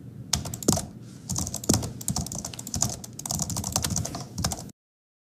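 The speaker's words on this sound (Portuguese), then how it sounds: "As pessoas digitando preocupadas e o sonzinho de teclado" Rapid computer keyboard typing rendered as a synthetic sound effect, a dense run of clicking keystrokes with brief pauses, close and clear, then cutting off abruptly.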